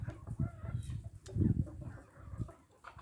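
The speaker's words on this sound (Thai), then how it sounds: "พาชมไก่ครับ ความสวยงามของไก่ป่า" A jungle fowl rooster clucks in short, close, repeated bursts outdoors, with irregular gaps and light background noise and no talking.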